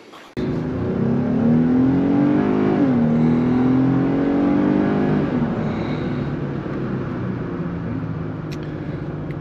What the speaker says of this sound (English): We're ready to start the Jeep up and reset the oil monitor.